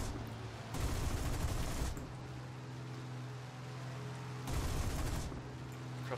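Aircraft cannons on a P-400 fighter in War Thunder fire in two loud, dense bursts of rapid shots over a steady engine drone.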